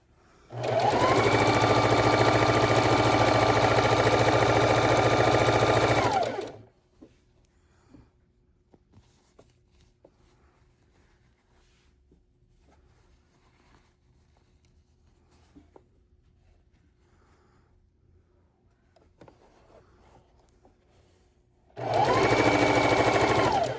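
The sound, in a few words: sewing machine stitching quilt patches together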